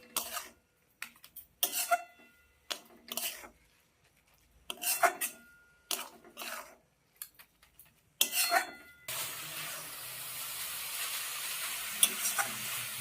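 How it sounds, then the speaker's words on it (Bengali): Coconut filling for dudh puli stirred continuously in a pan over medium gas, a series of distinct scraping strokes with short pauses, then a steady sizzling hiss to the end. "গ্যাসটাকে মিডিয়ামে রেখে সমানে নেড়ে নেড়ে একটু তৈরি করে নিতে হবে সেইটা"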